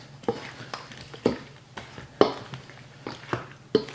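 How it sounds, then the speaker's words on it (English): A spoon stirs a tomato bean bread salad with cherry tomatoes and oregano in a bowl, producing about eight soft, separate scraping and clinking strokes in an irregular rhythm, close up and quiet. "And give that a stir."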